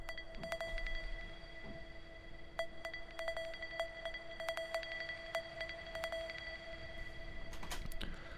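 An arpeggiator pattern built on a preset from Omnisphere's Clicky Signs 2, playing sharp repeated single-note clicky plucks in an uneven rhythm over a steady sustained tonal bed, fairly quiet and alone.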